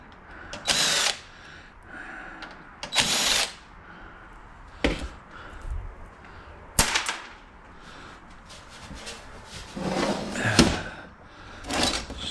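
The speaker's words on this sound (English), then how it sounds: "I unscrew the power supply" A power screwdriver backs screws out of a computer power supply during scrapping, giving several short whirring bursts spaced a few seconds apart with clicks and handling knocks between them, close by and fairly quiet.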